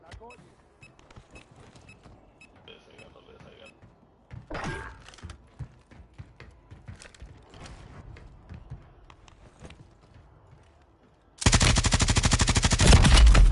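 In a multiplayer shooter video game, sparse shots and mechanical clatter sit under chatter from players, then a sustained, loud burst of automatic gunfire fills the final couple of seconds.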